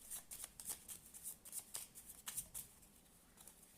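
A homemade oracle card deck being shuffled up close, a quick run of crisp riffling flicks and soft slaps, fairly quiet, with no talking.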